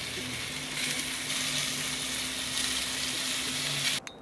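Shrimp sizzle on a charcoal grill with wood chips, a loud steady close hiss with a faint low hum beneath, ending in a brief clatter as the sizzle cuts off.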